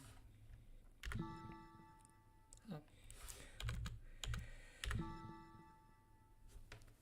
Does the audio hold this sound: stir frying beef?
no